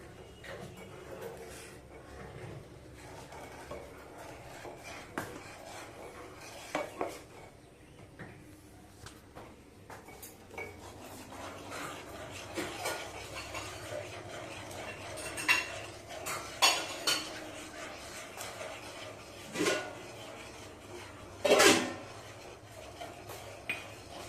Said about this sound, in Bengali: এবার আঁচটা কমিয়ে এটাকে হালকা করে এটাকে মিক্স করতে দেবো আমরা